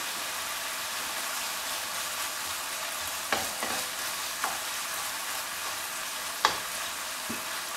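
Mince for spaghetti bolognese browning in a pan over medium heat, a soft, even sizzle with a few sharp clicks and scrapes from stirring.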